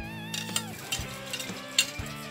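Onion and long chilies fry in a pan, a soft sizzle broken by several sharp clacks of a utensil stirring against the pan, close and fairly quiet over a steady humming tone.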